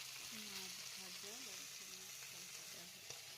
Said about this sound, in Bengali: মাছ ভাজা